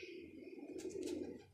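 A pigeon, a highflyer breeder bird, coos softly and continuously in a low murmuring tone, with faint bird chirps above, fairly quiet and close.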